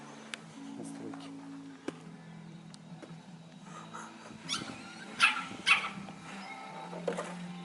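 A hunting dog in a yard gives a few sharp barks and soft whimpers against a steady low hum, with people talking nearby.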